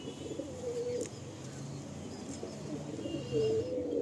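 Kalsira pigeons cooing in a loft, soft low throaty coos rising in two clear phrases near the start and end over a steady background of other birds, with no talk.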